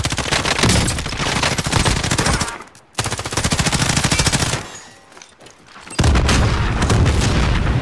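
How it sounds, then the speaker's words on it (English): Heavy automatic gunfire and booming RPG blasts in the video game Call of Duty Warzone, dense rapid bursts with a brief gap, then a rumbling explosion before the shooting resumes loud and close. "They're shooting RPGs at Raz."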